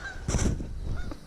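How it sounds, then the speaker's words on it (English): Angry geese honk as they pass over rural Maine: a short burst of several harsh, overlapping honks, fairly clear and mid-distance, fading quickly. "You can hear some angry geese going by."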